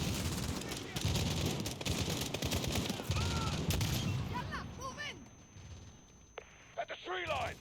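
Rapid gunfire rattles through a Modern Warfare video game finale, with dense bursts and repeated shots in the first half, then the barrage thins to scattered reports and squawking effects toward the end.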